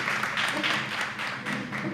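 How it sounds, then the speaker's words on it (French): Audience applauding at an official launch event for a women's peace leadership project, a dense, continuous patter of clapping hands throughout, fairly close and even in loudness. "Je vous demande d'applaudir"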